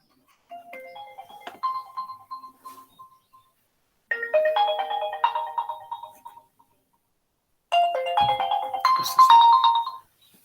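A mobile phone ringtone goes off during a lecture on per-unit calculations: a bright electronic melody plays in three bursts with short silences between them, fairly close and alone, with no talking over it.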